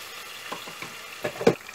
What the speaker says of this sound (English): Mix well and let it fry